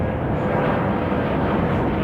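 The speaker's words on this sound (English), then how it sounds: "Fucking planes!" An airplane drones overhead above a suburban backyard during a film shoot, a steady broad rumble that fills the background and sounds moderately loud.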